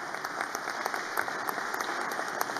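Crowd applause fills a hall at a Peruvian government event announcing project funding, steady dense clapping from many hands at moderate volume, continuous throughout with no talk over it.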